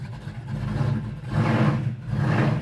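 A 1969 Chevelle's exhaust gives a deep, steady low rumble from inside the moving car. It swells louder twice as the engine pulls harder, with no talk over it.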